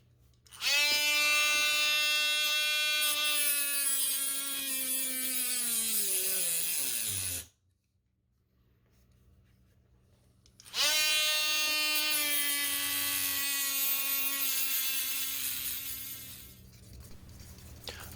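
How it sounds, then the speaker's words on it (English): Small rotary tool cutting axle grooves into a diecast 63 Studebaker dragster base, a loud high-pitched whine that runs for several seconds, stops, then starts again and winds down. "I got the axle grooves cut in the base so they fit down in"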